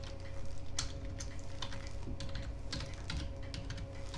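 Password being typed on a computer keyboard: a steady run of light, irregular key clicks, close and clear, over a constant low hum with no talking.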